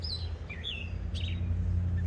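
A bird sings outdoors on a homestead in June, a few thin high chirps and short whistled phrases, faint and somewhat distant over a low steady rumble of background noise.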